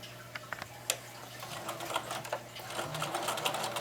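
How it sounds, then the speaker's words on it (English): A sewing machine runs a seam along the side of a lined bag made from recycled denim jeans, giving quiet, rapid mechanical stitching with light ticks and clicks that speed up toward the end. "we're going to sew down along the side"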